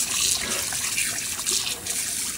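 Kangla fish are rinsed under a running tap, with steady splashing water and trickling close by, alone without voices.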